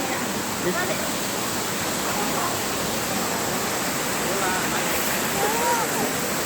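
Water splashes and rushes in a dense, continuous roar, loud and close with little variation, voices talking faintly beneath it.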